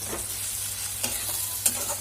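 Mashed potato and soaked thekera frying in a pan for a sour fish curry, a soft low sizzle with two brief spatula scrapes, fairly quiet and without speech.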